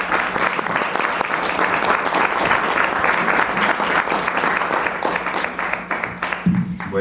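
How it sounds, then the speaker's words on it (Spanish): A lecture audience gives warm applause welcoming Dr. Reyes Equigua, a thick continuous roar of many clapping hands sustained for several seconds before tapering off as a voice begins. "con un caluroso aplauso"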